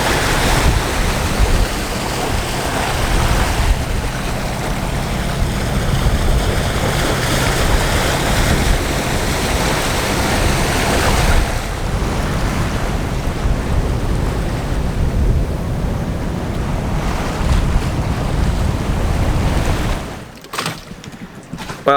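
Ocean waves slap and churn around a sailboat towing a dinghy off Moorea, a loud continuous wash with wind buffeting the microphone for about twenty seconds before it cuts away abruptly near the end.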